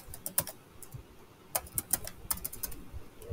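Someone types on a computer keyboard while entering R code, producing rapid, irregular key clicks up close over a steady low background hiss.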